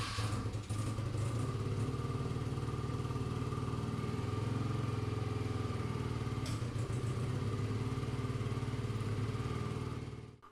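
A 1980s BMW R65 motorcycle engine running steadily in a shop, a close, even idle with a low throbbing rumble that holds for about ten seconds before cutting off, with no voices.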